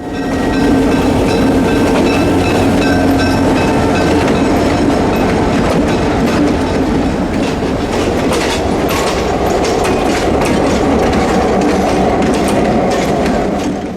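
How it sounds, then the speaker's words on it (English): A Clinchfield 800 F7 diesel locomotive throttles off toward Mount Dora with its Golden Triangle consist, a steady, loud rumble with clickety-clack of the passing cars lasting throughout, with no voices. "putting the 800 on the west end as the train throttled off towards Mount Dora"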